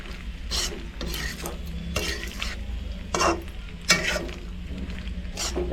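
A spoon stirs pasta with masala and chili in a pan, making repeated scraping and clinking strokes at an uneven rhythm over a low background hum and faint sizzle.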